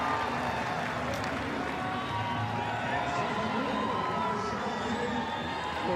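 Stadium crowd at a women's rugby World Cup pool match between Australia and Wales, cheering after a Wales conversion; a steady, dense roar of many voices with whoops, continuous and loud from start to finish.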